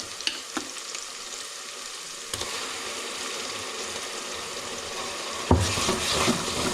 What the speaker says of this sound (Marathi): आता आपण याच्यामध्ये वाटलेला जो मसाला आहे ते घालूया याच्यामध्ये